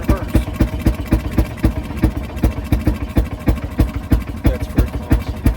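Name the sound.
Fairmont M19 speeder rail car engine running in reverse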